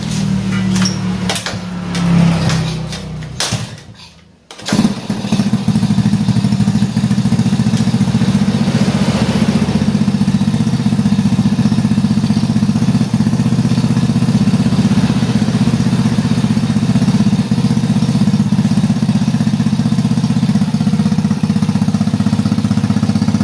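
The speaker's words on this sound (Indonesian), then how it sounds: "Motornya dalam keadaan hidup" Motorcycle engine starting after a few clanks and rattles, then settling into a loud, steady idle that runs unbroken for the rest of the clip.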